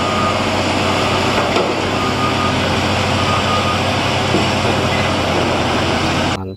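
Continuous toy vehicle noise with faint, steady reversing beeps buried in a loud whirring motor hum, close to the listener.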